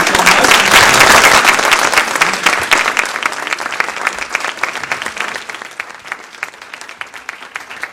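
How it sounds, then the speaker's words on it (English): An audience in a lecture hall gives a strong round of applause after a talk on human services, loud and dense at first, then thinning into scattered individual claps as it fades. "Nice round of applause for Wolf,"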